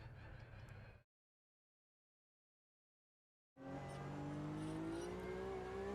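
Race car engine in the sim racing game Automobilista 2, loud and steady with a rising whine, cutting out after a second then returning for the rest; a brief silent gap sits between the two bursts.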